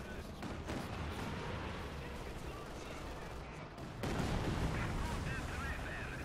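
Katyusha rocket artillery firing in Company of Heroes 2, a dense continuous rumble of launches and explosions with a louder surge midway, overlaid with battlefield gunfire and a voice talking throughout.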